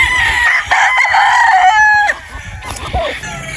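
A rooster crows loudly and close by, one long drawn-out call, followed by softer clucking from nearby chickens, in a Filipino poultry yard.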